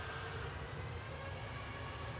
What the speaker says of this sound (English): Ryanair departing to Gothenburg.